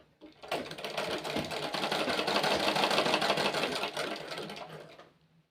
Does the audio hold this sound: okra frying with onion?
no